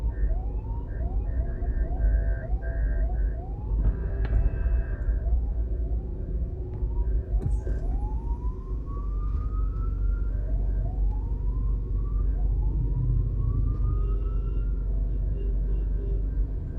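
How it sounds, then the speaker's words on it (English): A police car siren wails while driving through Half Way Tree in Jamaica: repeated rising sweeps carry over a steady low rumble of engine and road noise, at moderate distance. "There's you see a police car with the siren on"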